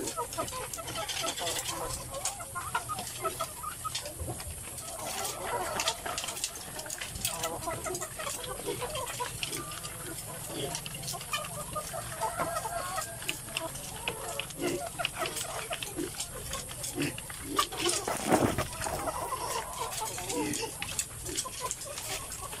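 Laying hens clucking on a backyard farm of about 200 birds, a steady busy flock chatter with scattered louder calls and some rustling throughout.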